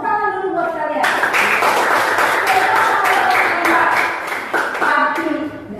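A classroom of schoolchildren applauding themselves, a burst of brisk clapping that starts after a teacher's voice and carries on for several seconds, with a brief voice near the end.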